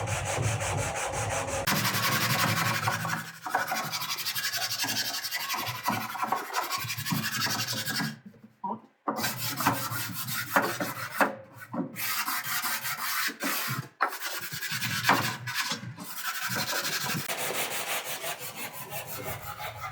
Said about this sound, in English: Just be careful with the sandpaper because, the electrical sandpaper because sometimes it's tough on the wood.